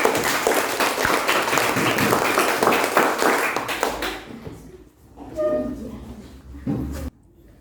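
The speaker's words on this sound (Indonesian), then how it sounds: "Beri tepuk tangan untuk kelompoknya Mas Geri" A classroom of students claps briskly for a few seconds, then the clapping thins and stops, leaving scattered taps, thumps and faint room noise.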